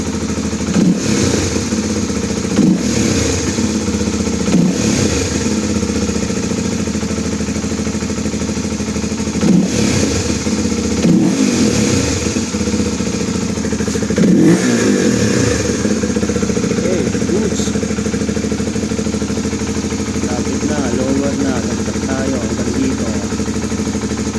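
A Rusi Flash 150x motorcycle engine, freshly fitted with a new spark plug, idles loudly up close and revs up in several sharp throttle blips spaced a few seconds apart, with a steady mechanical clatter underneath.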